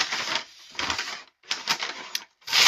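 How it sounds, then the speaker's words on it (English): Paper bag for a LEGO Botanicals 10368 Chrysanthemum set being ripped open, four short bursts of harsh tearing and crinkling with brief gaps between them, close and moderately loud. "Sorry about the noise of the paper ripping."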